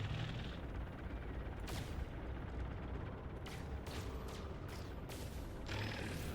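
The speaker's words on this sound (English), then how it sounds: "Oh, let me try using this cannon though." Heavy cannon fire from a ship weapon in the space game No Man's Sky, a dense continuous roar of booming blasts with sharp bursts through the middle, loud and sustained throughout.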